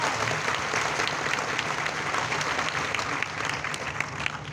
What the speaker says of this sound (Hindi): एक बार जोरदार ताली बजानी चाहिए।